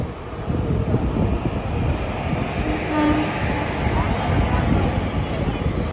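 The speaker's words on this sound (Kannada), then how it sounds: "ಟ್ರೈನ್ ಬಂದು ಅರೈವಲ್ ಆಗಿದ ತಕ್ಷಣ ಆ ಟ್ರೈನ್ ಡಿಪಾರ್ಚರ್ ಆಗ್ತಾ ಇದೆ, ಅಮರಾವತಿ ಎಕ್ಸ್ಪ್ರೆಸ್" The Hubli to Amaravati Express arrives at and departs a station, a steady loud rumble of rolling coaches with faint high clatter and a brief horn-like tone midway, voices faintly mixed in.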